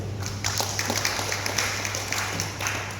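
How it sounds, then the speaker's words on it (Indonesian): Audience applause for a couple at a Buddhist Ulambana gathering, a steady patter of claps filling the room from start to finish under a constant low hum, moderately loud and without talk. "Tepuk tangan untuk beliau"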